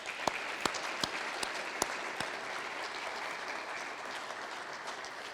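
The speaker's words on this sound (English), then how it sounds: "join me in a round of applause for all our guests" A room full of people at a city State of the City event claps steadily, a broad wash of applause with a few sharp, close hand claps standing out early on.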